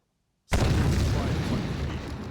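An explosion in Terminator: Dark Fate - Defiance bursts in suddenly from silence, a loud close boom that rolls into a long, sustained rumble and slowly fades.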